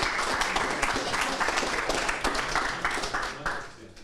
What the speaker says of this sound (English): So applause. Applause.